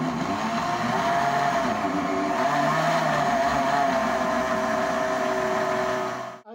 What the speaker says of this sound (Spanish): vamos a proceder a licuar nuestra preparación